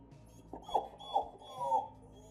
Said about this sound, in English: there was some whimpering that grew louder the longer I listened